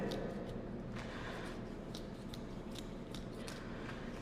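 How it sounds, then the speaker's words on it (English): A knife crunches and snips through the rib bones of a small roundfish on a cutting board, producing faint, irregular crisp clicks and cracks over quiet background noise. "then I'll just feel myself cutting through the rib bones"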